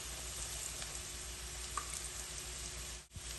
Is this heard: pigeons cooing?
no